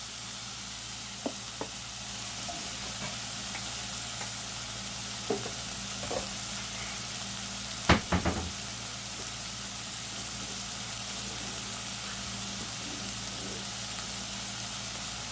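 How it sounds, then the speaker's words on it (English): Fresh basil sizzles in a frying pan during a callaloo and saltfish seasoned rice dish, a steady close frying hiss with a brief louder crackle and stir partway through, no talking. "Now I'm gonna add some fresh basil."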